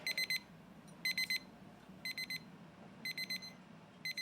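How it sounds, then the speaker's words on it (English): A medication reminder buzzer sounds in a home, repeating short bursts of rapid electronic beeps about once a second, clear and steady over a quiet room. "the buzzer signals it's time for her pills"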